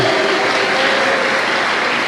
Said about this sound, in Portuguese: Você pode aplaudir a Deus por causa disso?